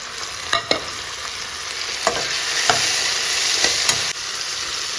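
Onions sauté in a hot pan with a steady sizzle. A spoon stirs them now and then, making sharp scraping clinks against the pan, close by.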